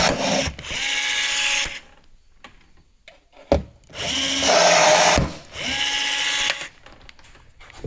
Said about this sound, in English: I have my Milwaukee rivet gun, which makes the job easy